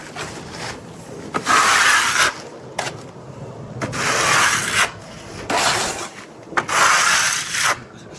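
A Regal & Barnes 0.3mm flexi trowel sweeps across fresh render on a wall, making loud, close, scraping strokes in long repeated passes with short pauses between, and no one talking.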